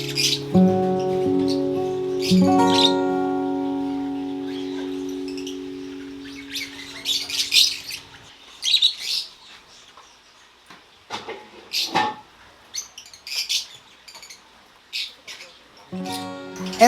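Parakeets and African lovebirds in an aviary chirp and squawk in scattered bursts, bright calls rising over a steady tonal hum that fades partway through, leaving intermittent close chirps against quieter background.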